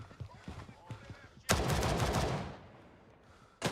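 Gunfire in the tactical shooter Gray Zone Warfare: a few light distant shots, then a loud close burst of automatic fire that rings out and fades, with another sharp shot cutting in at the end.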